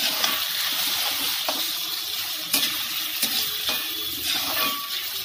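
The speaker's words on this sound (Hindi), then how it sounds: "जो फ्रेंड्स बची हुई अरबी है उसको भी मैं फ्राई कर लूंगी" Taro root (arbi) frying in hot oil gives a steady broadband sizzle with a few sharp clicks of a utensil stirring through the pieces, close and fairly loud, with no voices.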